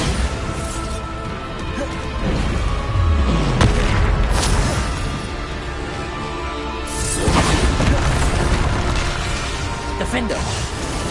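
Spell explosions from Bombarda in Hogwarts Legacy on PS5, a run of booming, crashing blasts layered over constant game noise and busy combat effects, loud and close throughout.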